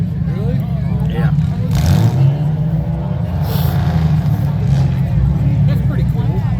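Demolition derby cars at a juvenile co-pilot class rumble and rev, their engines a loud low drone with rising surges as they shift and gas, while people talk nearby over the noise.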